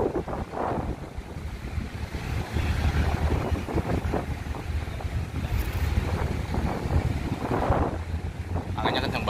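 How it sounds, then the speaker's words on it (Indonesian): Strong wind buffets the microphone on a boat at sea, a steady rough roar with waves and engine rumble beneath it for the whole stretch, and no clear words. "Anginnya kencang banget."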